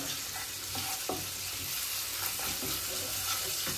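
Onions fry with salt in a pan for a palak paneer base, giving a constant loud sizzle with scattered scraping taps of stirring and no talking.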